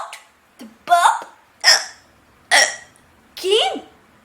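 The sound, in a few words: child imitating a burp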